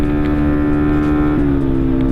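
A Kawasaki H2 motorcycle at high speed gives a loud, sustained engine drone with a steady harmonic whine, its pitch shifting slightly midway, heard close up from on the bike with wind noise.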